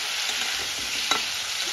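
Drumsticks and potato pieces with turmeric and salt being stirred in a hot pan, soft scraping and gentle sizzling with a single sharper clink of the spoon partway through, close and steady, no talking.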